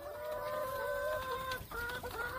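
A chicken on a small home organic farm clucks in a drawn-out, wavering call, close by and clear against faint outdoor background.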